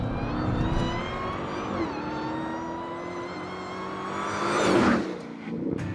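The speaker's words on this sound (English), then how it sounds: "You put your foot down and it just disappears towards the horizon." A Dodge Challenger SRT Hellcat accelerates hard, its supercharged engine note climbing steadily and loudly, briefly dipping at a gear change before surging again to a peak near the end.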